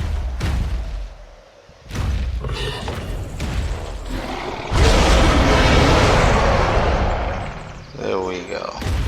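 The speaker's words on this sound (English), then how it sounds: "Rocket launcher fireworks." Rocket launcher fireworks fired in the ARK video game, a string of loud booming bursts with crackling, sustained roaring blasts building midway, mixed with talk and game sounds.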